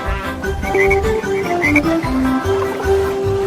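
Frog croaking in a children's song about speckled frogs on a log, repeated tonal croaks at a steady rhythm over a bouncy musical backing, loud and up front.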